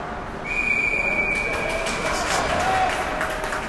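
A referee's whistle at an ice hockey game between the MN Blades and Everest Elites sounds as one sustained shrill blast over arena crowd noise, followed by a fainter second tone.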